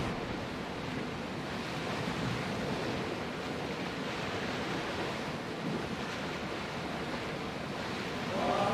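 Ship sailing over the sea in Assassin's Creed Odyssey, a steady wash of waves and wind rushing softly and continuously with no voices.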